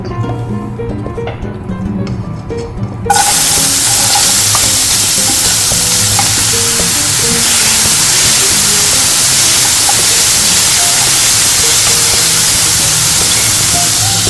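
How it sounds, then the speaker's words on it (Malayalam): Two medium onions, finely chopped, hit hot oil for a chicken roll filling; a quiet opening gives way to a sudden loud, sustained sizzle that holds steady throughout. "എണ്ണ ചൂടായി. ഇനി ഇതിലേക്ക് 2 മീഡിയം സൈസ് സവാള ചെറുതായിട്ട് അരിഞ്ഞത്"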